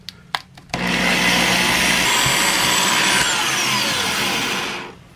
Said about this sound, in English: Okay, I just run the drill bit across there.